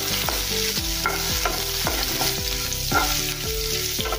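Coarsely crushed garlic and asafoetida fry in oil for a simple dal, a loud continuous sizzle close by with repeated stirring strokes scraping the pan.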